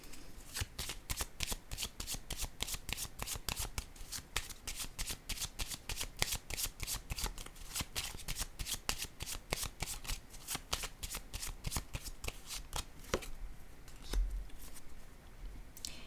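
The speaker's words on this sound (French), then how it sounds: "J'ai pourtant mélangé mes cartes." A deck of tarot cards is shuffled steadily at close range, a long run of rapid riffling flutters and soft slaps that eases off toward the end, with no voices.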